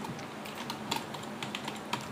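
Computer keyboard typing while entering a name in the CryEngine game editor, a quick run of soft key taps over a low steady background hum, no voices.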